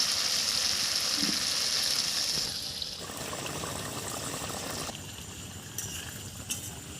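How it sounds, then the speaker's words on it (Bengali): Water poured into fried spice paste for a Bengali fish curry with brinjal and bata fish: a steady close splashing pour that softens after a couple of seconds into a gentle bubbling trickle. "মশলাটা কষানো হয়ে গেছে, এবার জল দিয়ে দেবো।"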